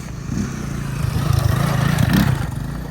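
A motorcycle engine revs up and down nearby, buzzing louder and softer in waves, with no talking.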